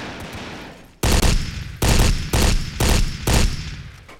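Loud bursts of video game gunfire, four or five heavy rapid-fire volleys in quick succession after a brief quieter start, with no talking.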